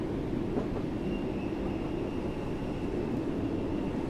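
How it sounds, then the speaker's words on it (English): A Class 484 train runs on the Isle of Wight route in Train Sim World, giving a steady, loud rolling rumble with a faint thin whine above it, continuous and unbroken throughout. "So now it sounds like a good train."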